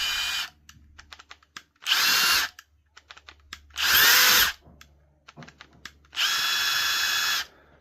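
A Milwaukee M12 1/2-inch stubby impact wrench in nut-busting mode fires in three loud bursts of about half a second to a second and a half each, with quiet clicks and trigger handling between them.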